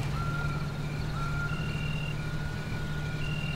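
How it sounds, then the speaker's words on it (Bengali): A police car pulls up as a sound effect in a suspense story: a steady low engine rumble runs throughout under repeated high electronic beeps, close and continuous. "হঠাৎ গাড়ির শব্দে ঘাড় ঘোরালাম"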